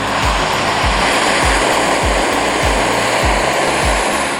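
Ozark Trail 4-in-1 portable gas stove burner jetting flame, a loud steady roaring hiss that holds throughout with faint regular low thumps underneath.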